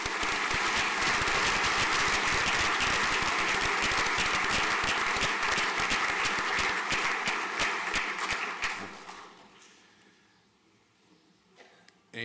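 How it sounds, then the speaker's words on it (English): Prolonged audience applause at a school prizegiving, loud and dense for about nine seconds before tapering off into a quiet room. "A huge round of applause, please."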